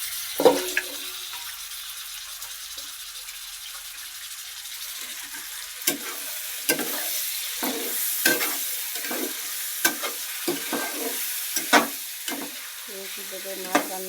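Magur catfish fries with spices for a Bengali bhuna, a low sizzle underneath frequent scraping clacks of a spatula stirring the pan, sparse at first, then in a quick, irregular run.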